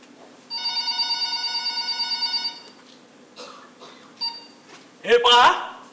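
A telephone rings in a one-act stage play: a steady electronic trill pulsing for about two seconds, loud and close, followed by quieter scattered sounds and a voice near the end.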